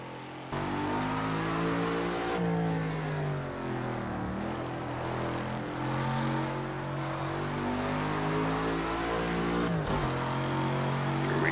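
A classic Lotus 40 race car engine at Monza in Project Cars 2 drones and revs loudly, pitch rising through gears with brief dips at shifts around 2, 4 and 10 seconds, continuous and alone.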